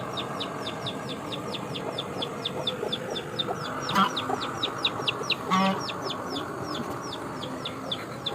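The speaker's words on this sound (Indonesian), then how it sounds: "Gak usah dengerin dah suara-suara angsa" Geese honk near an outdoor spot where aluminium scrap is being melted with a small gas torch, a rapid run of repeated calls over a steady background hiss, with a couple of louder knocks along the way.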